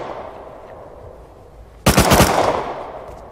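Sudden burst of rapid automatic gunfire in the game Rust, loud and close, a dense string of shots after a quiet stretch of low ambient noise.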